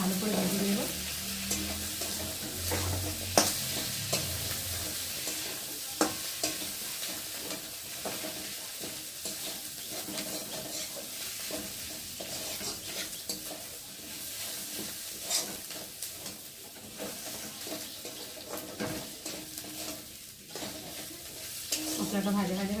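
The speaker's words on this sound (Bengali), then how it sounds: "আমি মশলাটাকে ভালো করে ভেজে নেব।" Spice paste with chilli frying in a pan for a banana flower dish, a steady loud sizzle with frequent scraping stirs throughout.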